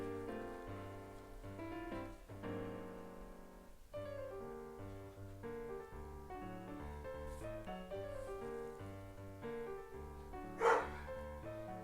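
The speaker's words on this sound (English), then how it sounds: "It's a loud old puppy in the background." A puppy barks in the background, its yips and a sharper bark near the end sitting beneath steady tonal music that fills the whole stretch.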